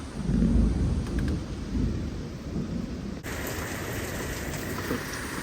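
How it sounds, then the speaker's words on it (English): A thunderstorm with steady, heavy rain and low rumbling thunder fills the scene, heard from a sheltered smoking area, with no voices. "We're watching the storm."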